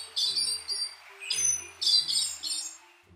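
An Eastern slaty thrush, Turdus subalaris, a migratory thrush of southern and southeastern Brazil, sings close and clear in a run of about five bright, buzzy chirping phrases, with no voices.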